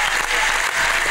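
A badminton crowd at a women's singles final claps and cheers in a dense, loud burst of applause.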